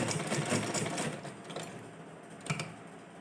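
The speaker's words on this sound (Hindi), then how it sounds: "अब हम इसके ऊपर सिलाई लगाएंगे।" A sewing machine stitching fabric for a garment runs with a close, steady, rapid mechanical whirring and clatter, swelling slightly in short bursts, with no talking.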